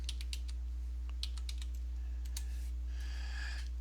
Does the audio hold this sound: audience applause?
no